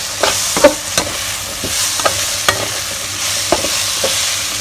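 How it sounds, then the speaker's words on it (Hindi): Gram flour and green peas frying in a pan while being stirred, a close steady sizzle broken by regular scraping clatters of the spoon, with no talking. "जैसे बेसन पक रहा है, हम साथ साथ मटर भी डाल देंगे,"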